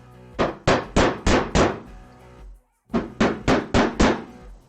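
A hammer taps the ends of a fret into a guitar neck with two quick runs of five even, solid knocks separated by a short pause, close and loud with no other sound.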